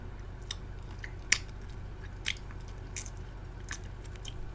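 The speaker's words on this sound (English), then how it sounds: "I'm eating on camera, baby." Someone eating close to a microphone, with a handful of separate crisp biting and chewing crunches spaced over a quiet, low background hum.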